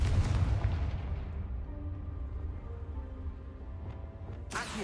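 A deep, booming Confringo spell explosion in Hogwarts Legacy, loud at first and then rumbling as it slowly fades. A sharp burst cuts in at the very end.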